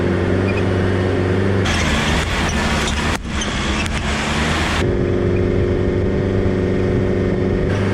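A 4WD vehicle grinds up a steep rocky track toward a helipad on Billy Goat Bluff Track, its engine droning loudly and steadily with a harsher, noisier rumble and scrabbling through the middle of the climb.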